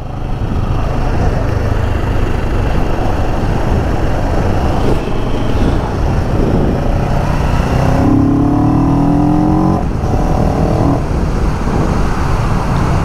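A car pulls away through town streets, its engine a steady, close drone that builds and shifts as it accelerates, with a brief rising whine partway through.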